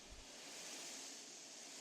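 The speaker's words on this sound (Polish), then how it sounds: "delikatne fale na wodzie" Gentle waves wash softly and continuously at a beach, a faint, even hiss with a light breath of wind.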